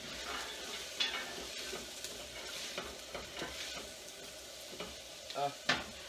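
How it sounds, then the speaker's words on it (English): Lentil soup with onions and garlic stirred briefly in a cooking pot, a soft steady sizzle under light scraping strokes and a couple of clinks near the end, close and fairly quiet. "Just a quick stir."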